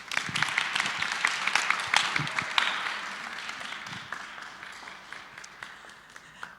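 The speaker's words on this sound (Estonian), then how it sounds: "Teeme neile ühe aplausiga." A church congregation applauds during a Sunday service, a burst of clapping that starts strong and gradually thins and fades, heard at a moderate distance in a reverberant hall.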